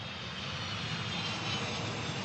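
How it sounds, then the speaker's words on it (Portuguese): Jet airplanes at an airport give off a steady, loud engine roar that stays constant throughout, with no speech. "Estamos vendo os aviões que levam as pessoas à Área 51."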